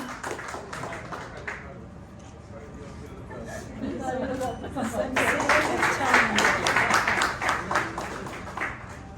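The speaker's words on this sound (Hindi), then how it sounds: "मैं चाहूंगी कि आप सभी भी प्लीज एक बार तालियों के साथ हमारा साथ दें" At an awards and convocation ceremony in Indore, a voice speaks over scattered taps before the audience bursts into fuller, sustained applause that grows louder through the second half.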